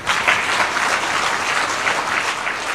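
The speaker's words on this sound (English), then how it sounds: "let's all be upstanding and we welcome the President with a round of applause." Audience in a formal hall applauding as the Kenyan president arrives, a steady dense round of clapping from many people, loud and continuous throughout.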